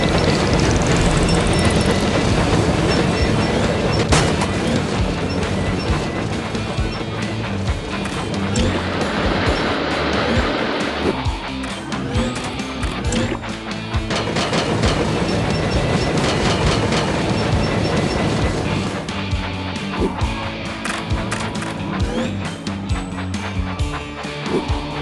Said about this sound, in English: Clear the tracks! Engine coming!